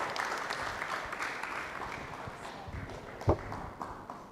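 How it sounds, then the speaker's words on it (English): Scattered applause from a conference audience as a panel moderator comes up, faint and thin, a soft patter of hands with a single sharper clap near the end and a little background murmur. "a round of applause, guys."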